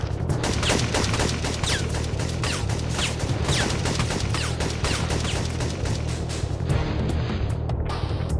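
Dense, sustained gunfire from snipers in the PS1 game Syphon Filter 2, a loud continuous barrage of shots and impacts that fills the whole stretch, ending with a brief drop near the end.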